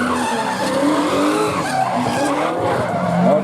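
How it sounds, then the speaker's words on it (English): A car drifting around the corners of the Freedom Factory racetrack: loud, sustained tire squeal with wavering pitch over a roaring engine, heard up close for several continuous seconds. "I don't think the sheriff would like me drifting out of the corners"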